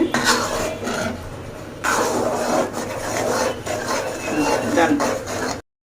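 A spoon scrapes and stirs thickening milk for kheersa in a pan, a continuous close rasping rub that runs steadily throughout and stops abruptly at the end.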